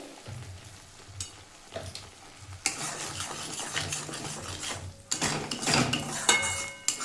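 Mustard-poppy masala for hilsa fish curry being stirred and sautéed in a pan, with scraping spoon strokes against metal over a sizzle that grows busier and louder after a few seconds, close up and without voices.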